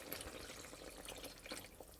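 Water runs from a tap into emptied tomato sauce cans in a home kitchen, a steady soft splashing and trickling with small drips, fairly quiet and continuous with no voices.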